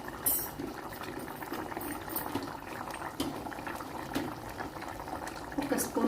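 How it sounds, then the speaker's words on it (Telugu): An egg and drumstick curry bubbling in a pot, a soft continuous simmer of popping bubbles and liquid movement with occasional small clinks, fairly quiet and unbroken throughout. "ఒకసారి అంతా దగ్గర ఉడుకుతుంది"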